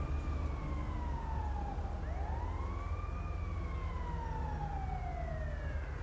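An ambulance siren from the police game LSPDFR wails in long rising and falling sweeps, steady and fairly loud over constant road and engine rumble, with no talking.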